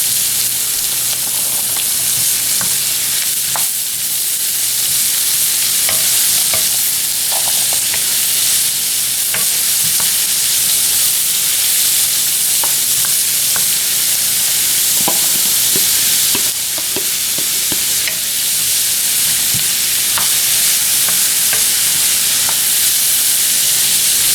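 Zucchini and mixed vegetables stir-fried in a pan, a loud, continuous close sizzle and hiss with scattered scraping and clicking from stirring, no speech.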